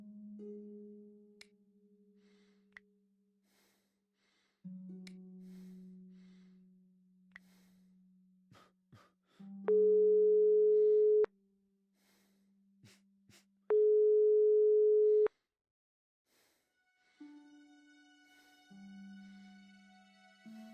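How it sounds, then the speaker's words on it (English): Phone-line tones from the adventure game Broken Sword 5 – The Serpent's Curse: repeated steady beeps and a busy signal, with two louder, sharper tone bursts partway through, all playing on their own without speech. "wasn't answering her phone."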